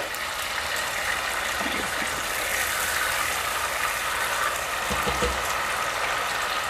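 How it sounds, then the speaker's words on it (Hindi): Chopped onions cook in a pan as their water cooks off, giving a steady, soft sizzling hiss with a couple of faint knocks from the pan. "प्याज का पानी खुश्क हो रहा है।"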